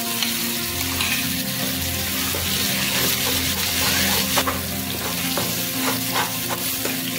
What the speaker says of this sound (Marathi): आता आपल्याला याला तेल सुटेपर्यंत फ्राय करून घ्यायचं आहे